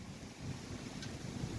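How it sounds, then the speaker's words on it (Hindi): Cool wind blowing outdoors at the Kurukshetra Dharohar heritage site near Kurukshetra University, a faint, steady low rumble of wind buffeting the microphone, continuous, with no talk. "बिल्कुल ही ठंडी ठंडी हवा चल रही है"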